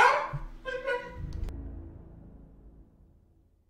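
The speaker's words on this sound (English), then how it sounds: "it was the dog in the kitchen" A dog in a kitchen gives a couple of short barks or yips near the start, followed by fading rumbling and a brief clatter, then quiet.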